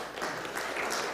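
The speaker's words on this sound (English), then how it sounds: "So give yourselves a round of applause for that." A church congregation bursts into applause, a dense steady wash of clapping from many hands that stays strong and even throughout its short span.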